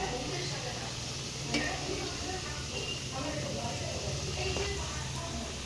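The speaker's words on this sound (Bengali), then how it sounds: "এটাকে এবার তেলে ভাজবো" Steady sizzling of laddoo mixture frying in oil, a continuous crackling hiss with occasional light clinks, close by, with faint voices in the background.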